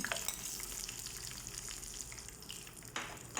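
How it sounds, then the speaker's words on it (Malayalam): Cashew nuts frying in hot oil for Malabar biryani give a quiet, close, steady crackling sizzle with faint stirring, and a brief louder burst near the end. "ഇനി ഇത് ചൂടാകുമ്പോൾ അതിലേക്ക് കുറച്ച് കാഷ്നട്ടും"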